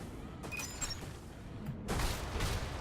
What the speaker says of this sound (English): just the sounds of the explosions are just so on point